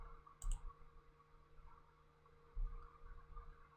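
Quiet, close mouse clicks while playing a Roblox strength simulator game, a few single taps spaced a second or two apart over a faint steady hum.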